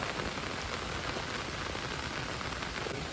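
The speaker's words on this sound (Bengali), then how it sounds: "দেখুন বৃষ্টি তো হয়েই চলেছে লাগাতার 2 দিন" Continuous heavy rain falls outdoors near a river during a monsoon spell, a dense, steady hiss of drops striking surfaces that stays even throughout with no pauses or voices.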